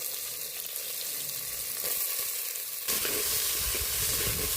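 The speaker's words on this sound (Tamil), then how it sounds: "வெங்காயம் நல்லா வதங்கட்டும்." Onions sautéing in hot peanut oil in a pan over a wood-fired stove, a steady close sizzle that stays even throughout and grows a little louder and denser toward the end.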